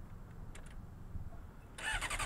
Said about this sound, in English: This is how regular people start up their bikes and warm them up.